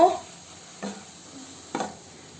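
Cabbage cooked dry in a pan for a mashed cabbage bharta, with a low steady sizzle broken by two distinct stirring scrapes, the first near the middle and the second toward the end, all close and moderately quiet.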